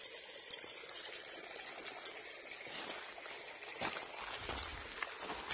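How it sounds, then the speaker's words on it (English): A raging river on a Cold Springs hiking trail rushes in a steady, loud roar, with heavier splashes and gushes toward the end as someone crosses the water. "we've got a raging river to cross"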